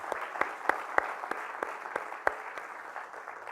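Scattered applause from a small audience at a lecture event, a sparse sequence of distinct claps at an irregular rhythm, fairly faint and thinning out toward the end, with no one speaking.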